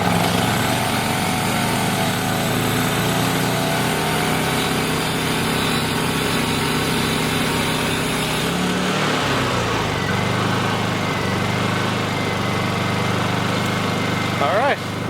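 A Honda EU2000i inverter generator runs after its carburetor was cleaned and eco throttle fixed, a steady near engine drone that holds even for about eight seconds, then drops to a lower, quieter hum.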